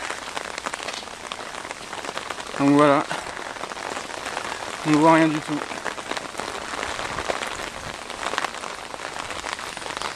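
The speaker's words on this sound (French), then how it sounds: "Parce qu'il pleut des cordes." Heavy rain pours steadily on Miyajima island in Japan, a dense, constant hiss throughout, while someone speaks briefly over it.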